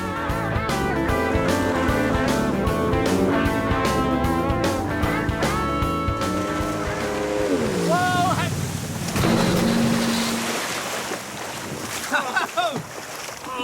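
Loud, steady engine roar of a 250cc jet-powered boat racing at full speed along a mangrove river, with wind rushing past the microphone and music playing underneath.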